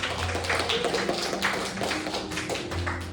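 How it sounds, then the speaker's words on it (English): An audience claps in sustained, dense applause at a live poetry and dream-interpretation evening, the steady patter filling the room at close range with no voices on top. "So give them another round of applause for their courage and bravery this evening."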